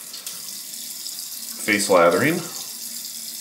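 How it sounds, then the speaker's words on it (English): Warm water runs from a tap onto the face before shaving, a steady hiss of flow swelling briefly in the middle while a voice speaks over it. "Let's get some warm water on the face"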